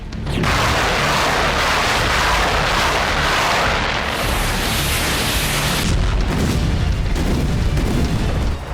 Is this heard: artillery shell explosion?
yes